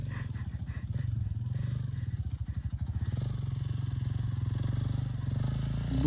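Motorcycle riding along a winding mountain road, the engine droning steadily with a low, pulsing putter and a faint rise in pitch midway, continuous and close throughout.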